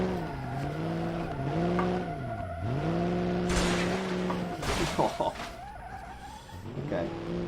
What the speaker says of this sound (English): Gearbox is struggling to change gear there.